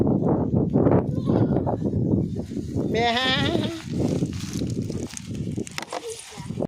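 Goats bleat repeatedly, one wavering bleat standing out clearly, with people talking close by throughout.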